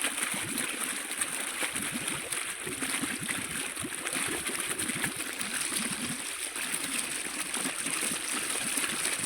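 Water flowing steadily onto onion seedlings in a field, fed by a running pump motor, gives a continuous rushing, trickling wash with no break.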